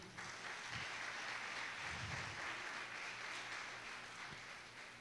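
A church congregation applauds during a worship service, a steady, dense wash of clapping from many hands that fills the room evenly from start to finish without a break.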